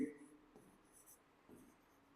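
A pen writing on paper while working through a Class 11 cash book, giving soft, faint scratching strokes in short bursts with pauses between, with a brief voice at the start.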